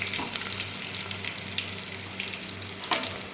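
Uggani, a Rayalaseema puffed rice dish, frying in a pan, with a steady, close hiss of sizzling oil and faint stirring scrapes throughout, no voices.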